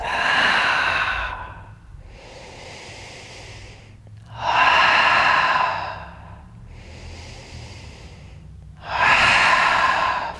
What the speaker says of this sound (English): inhale through the nose and exhale through the mouth. It's a connected breath.